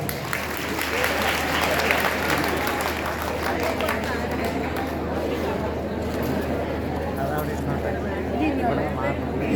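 Steady applause from an audience at a religious gathering during a Narayaneeyam festival, honoring a man named Ravi; dense, even clapping holds throughout at moderate level with faint background murmur.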